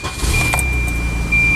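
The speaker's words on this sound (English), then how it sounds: "Let's start the car up." A Volvo wagon car engine starting, a short close turnover with a steady mechanical hum and a faint high whine, brief clicks and jangles over it.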